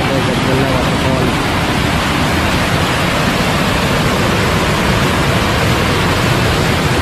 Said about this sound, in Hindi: सरकार एक खूबसूरत वाटरफॉल है भाई, यहाँ पे कुंड बना हुआ है, इसी को कहा जाता है गजपल्ला वाटरफॉल